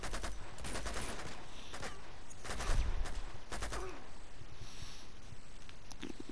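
Gunfire in the video game Uncharted, several loud bursts of shots separated by short pauses, with impacts and action effects between the volleys.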